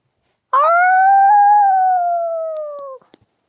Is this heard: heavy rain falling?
no